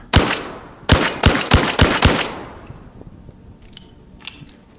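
A gun in the shooter game Zero Caliber is handled and flicked, giving a string of sharp metallic clacks in quick succession, loud and close, followed by a quieter tail with a couple of faint clicks.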